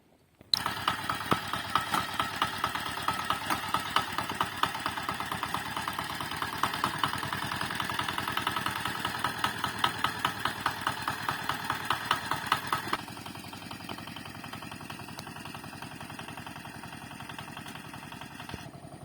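A vehicle engine runs close by with a steady, rhythmic chugging idle, then drops to a quieter, more distant rumble as it drives off.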